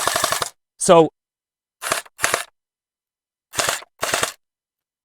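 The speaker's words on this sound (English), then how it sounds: "You can see the rapid fire." An automatic gel water ball toy gun firing in short bursts of rapid shots, four or so quick clusters separated by silence, with a brief spoken word near the start.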